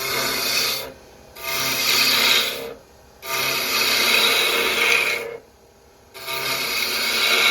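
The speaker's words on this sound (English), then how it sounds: "I'm going to use a different texturing tool just to show you another effect." A texturing tool rasps against a spinning wooden top on a lathe in three long bursts, each a loud, broad scraping texture separated by short gaps where only the lathe's low hum remains.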